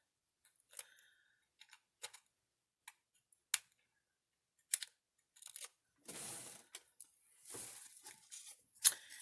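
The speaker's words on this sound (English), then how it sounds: "and then I'll just take off the tape." Tape peeled off a handmade candy holder craft, with sparse small clicks and taps followed by a couple of longer ripping pulls. Each sound is close and quiet with silence between them, and no one speaks.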